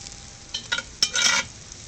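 Food frying in a Dutch oven for baked beans, with short bursts of sizzling and stirring scrapes rising in a few close, uneven surges over a quiet background.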